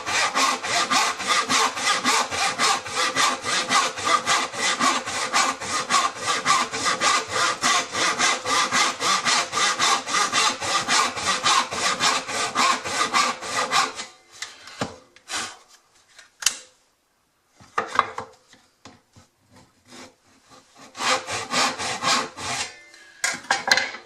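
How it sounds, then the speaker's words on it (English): A knife awl scores wood in quick, rhythmic rasping strokes, close and steady for about fourteen seconds, then breaking into short scattered bursts with quiet gaps between them. "Using the knife awl."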